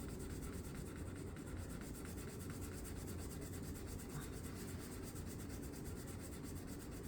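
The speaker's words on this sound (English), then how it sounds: "This steel wool does pretty well" Steel wool rubs along the frets of a 1986 Hamer guitar neck, a soft, steady scratchy scrubbing, faint and close, continuing without pause and with no voices.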